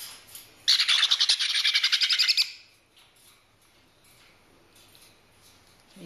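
Four-week-old baby conure parrots chirp in a rapid, rhythmic burst of shrill begging calls during hand feeding, close and loud for about two seconds, then fall quiet apart from faint background rustling.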